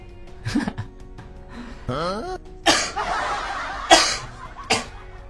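Several sharp coughs burst out in quick succession, close and loud, with a short vocal sound between them.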